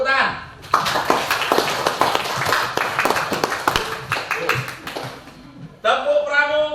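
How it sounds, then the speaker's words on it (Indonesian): A group of schoolchildren and a teacher break into dense, continuous hand clapping during a classroom activity, loud and close for several seconds, with children's voices before and after. "Tepuk tangan."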